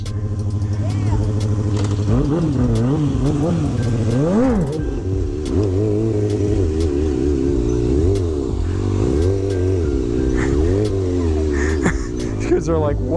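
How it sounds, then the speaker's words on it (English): A motorcycle-like engine revs repeatedly in uneven bursts, rising and falling loudly and close by on a street in Chicago's Grand Crossing area, with people talking over it. "Come rev this thing."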